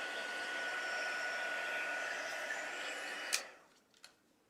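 A crafting heat tool warms Stampin' Up! Heat and Stick powder with a steady, close blowing whir that cuts off abruptly with a click, followed by a second faint click in near silence.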